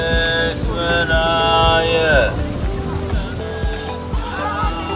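A bullock cart approaches along a path through rural paddy fields at Kollengode, with rhythmic hoof clops and rattling under loud outdoor ambience, along with a few rising and falling tonal calls.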